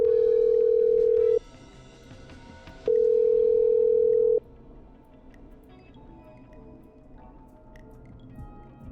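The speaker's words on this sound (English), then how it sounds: "I'm dialing. One moment." Steady telephone dial tone in the horror puzzle game Killer Frequency, sounding in two loud sustained bursts of about a second and a half each, separated by a pause, then giving way to quiet background.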